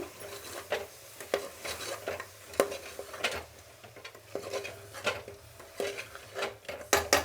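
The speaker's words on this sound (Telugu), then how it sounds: "దీన్ని బాగా కలుపుకుందాము" A spoon stirs chicken curry with chilli powder in a pan: repeated scraping and clinking strokes at an uneven rhythm, close and clear, with no talking.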